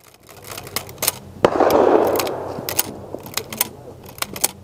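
Sharp rifle gunshots at an outdoor shooting training session, a series of loud separate cracks spread irregularly over a few seconds, with faint voices in the background.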